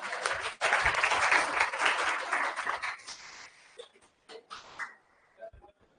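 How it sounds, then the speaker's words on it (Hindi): Applause from a class of veterinary physiology students fills a lecture room, loud and dense for about four seconds before thinning into a few scattered claps and faint voices. "जोरदार तालियां।"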